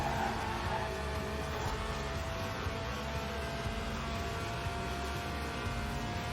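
In Forza Horizon 4, a 190-horsepower 1.8-litre car engine that revs to 8,000 RPM hums at a steady, moderate level, a continuous drone without clear rises or drops.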